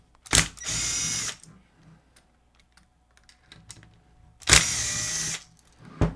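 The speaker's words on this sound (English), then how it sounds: "I prefer to use an impact on this, which this is a little rigid impact driver" A small Ridgid impact driver loosens screws on a noisy, hardly spinning Lasko PN020350 floor fan, giving two loud, close bursts of about a second each with quiet handling clicks between them.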